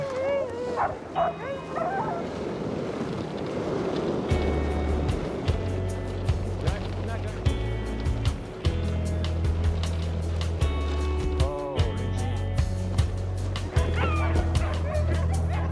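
Several dogs barking and yipping outdoors in a mountain setting, with repeated sharp barks coming in bursts, some close and loud, alongside occasional whimpers and a low rumble underneath.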